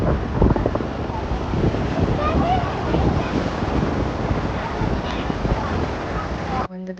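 Surf rolls onto a beach at Puttalam, a continuous loud wash of breaking waves with heavy wind buffeting the microphone, then cutting off abruptly near the end.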